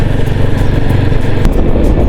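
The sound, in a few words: motorcycle engine running on the road to Khardung La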